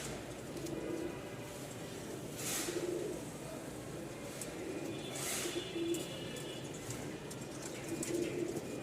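A pair of Hatbazi pigeons, male and female, coo softly in low repeated murmurs, with faint bird calls and some wing rustle in the background.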